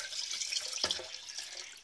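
Water pours into an essential oil mixture, about 700 ml added to a blender jug, a steady hissing trickle with a brief splashing burst midway, close and moderately quiet, without speech.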